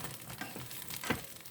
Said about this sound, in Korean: 고추를 먼저 달궈진 팬에 올리브유를 큰 숫자로 1스푼 반을 넣고 먼저 볶아줍니다